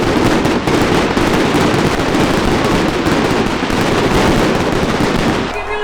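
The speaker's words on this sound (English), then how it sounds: "That was a lot of fireworks really close to the crowd." Dense fireworks at the Zagreb Christmas Market opening night, a continuous loud barrage of crackling bursts and pops very close to the crowd, with faint crowd noise underneath.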